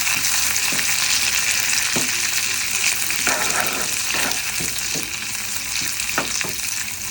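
Dried red chillies, cumin, mustard seeds and curry leaves fry in hot oil for a tempering, giving a continuous close sizzle with a few sharp scraping and stirring taps of a spoon against the pan.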